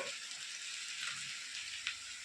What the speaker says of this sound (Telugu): అల్లం పేస్ట్ వేగిపోయింది కదా